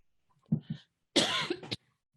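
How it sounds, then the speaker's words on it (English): A couple of short coughs followed by a longer, harsher burst of coughing and throat clearing, close and fairly quiet, with no talking. "I didn't want to keep coughing on you."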